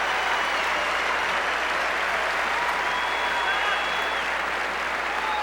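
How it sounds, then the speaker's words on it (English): A stadium crowd at a US Open tennis match applauds steadily at the end of a four-set second-round win, dense continuous clapping with a commentator speaking over it. "Andy Roddick survives, beating the 223rd player in 4 sets, and applauding Jack Brasington as well."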